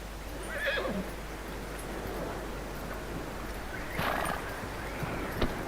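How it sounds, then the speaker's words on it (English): A horse in Red Dead Redemption 2 whinnies loudly near the start, with soft clip-clop of hooves and a few more snorts and stomps against quiet outdoor ambience. "That looks like a decent horse."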